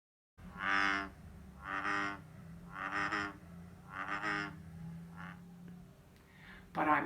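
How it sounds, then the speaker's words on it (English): Frog grunting: five low, raspy grunts in an even rhythm, each fairly loud and close, followed by a brief fainter sound near the end. "And some frogs even grunt."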